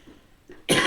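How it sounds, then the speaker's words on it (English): A single sharp, loud cough bursts out near the end, preceded by a faint throat sound, from a person with a lingering winter cough blamed on allergies. "I just constantly have this cough lately through winter"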